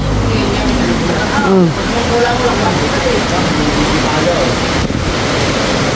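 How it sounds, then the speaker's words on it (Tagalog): Heavy rain suddenly pours down outdoors after a hot day in the Philippines, a dense, steady roar of falling water mixed with wind buffeting the microphone, while voices talk over it. "Init kanina. Biglang ulan."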